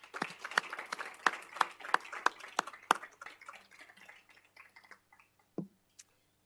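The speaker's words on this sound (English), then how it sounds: "Let's give her a round of applause." A few people at a city council meeting applaud, sparse distinct claps in a quick uneven rhythm that thin out and stop within a few seconds.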